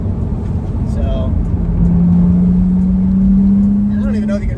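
Steady low engine drone and wind noise inside a Porsche 987 Boxster Spyder while driving, with a rising intake tone in the middle, loud and continuous throughout.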